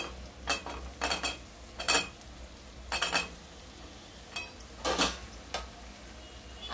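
Ash gourd pieces and onions fry in a pan while a spoon stirs them, making short bursts of scraping and clinking at an irregular rhythm over a faint, steady sizzle, fairly quiet and close.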